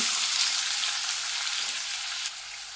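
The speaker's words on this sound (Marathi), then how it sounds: "तेल आता गरम झालेलं आहे कांदा परतून घ्यायचा आहे" Onion sizzling in hot oil in a kadhai, a steady, close, bright frying hiss that runs evenly throughout, easing slightly toward the end.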